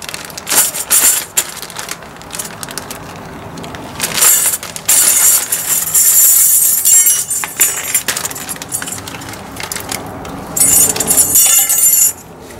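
A metal brake pad clip for the rear brakes of a 2013 Ford E-350 is handled, giving bright clinks, rattles and scrapes in irregular bursts, loud and close with no talking.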